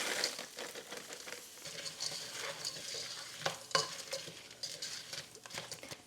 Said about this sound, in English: To this, I'm gonna add my 10-ounce bag of frozen seasoning blend.